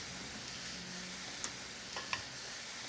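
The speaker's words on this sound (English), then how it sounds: "Just mixing everything together." A spoon mixes chopped dill and black pepper with nutmeg in a bowl, making a soft, quiet scraping and stirring sound against a faint background hiss, with a few light clicks.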